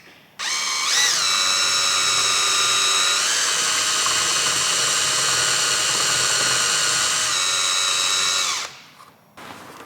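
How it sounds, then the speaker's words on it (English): An electric power drill runs steadily for about eight seconds, widening misaligned mounting holes for a Maxton V2 front splitter on a 2021 Toyota Supra A90. The whine starts and ends abruptly, with a brief pitch dip, close and loud, with no talking. "I think we might need to drill these holes out a little bit."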